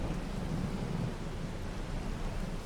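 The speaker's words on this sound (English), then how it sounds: "Looks like the rain's slowing down." Steady rain falls in Farming Simulator 22, a constant soft hiss with a low rumble underneath, even and unbroken throughout with no talk.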